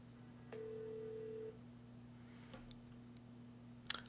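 A Grandstream desk phone calls back a number, giving a single steady electronic tone for about a second over a low hum, then a few quiet clicks.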